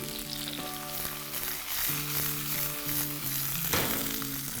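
Onion and okra frying in a dhaba-style tadka make a bright, continuous sizzle, close and steady, with sustained musical tones playing underneath.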